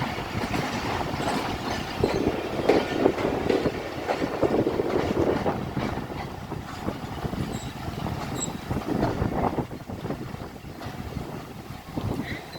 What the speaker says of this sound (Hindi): प्लेटफार्म नंबर 5 पे डाइवर्ट हो गई है ट्रेन।